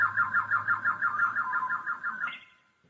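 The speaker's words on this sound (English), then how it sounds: "So the slower pitch of the bird call" A bird call voice on a STRICH 88-key hammer-action digital piano plays a rapid, evenly pulsing warble of about a dozen beats. It ends with a brief higher note and then fades out.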